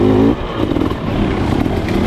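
KTM 300 XC-W two-stroke dirt bike on a loose trail ride, its engine droning steadily up close with a brief louder burst at the start and continuous rough running throughout, no talking.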